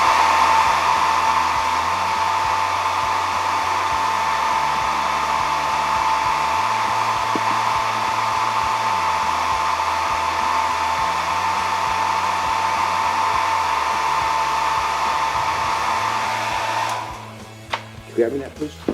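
A hair dryer runs steadily on a burn hole repair during refinishing, a loud continuous whir with a slight pitch wobble for about seventeen seconds before cutting off, followed by a few faint handling noises.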